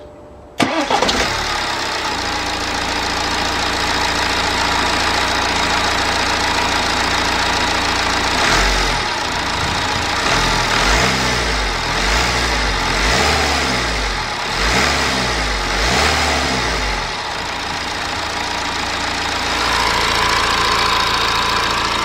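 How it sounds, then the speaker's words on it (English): A diesel car engine cranks and fires right after its intake manifold has been refitted, then settles into a steady, loud, close idle with a few rhythmic revs partway through. "just want to fire the engine up just to make sure we don't have any issues."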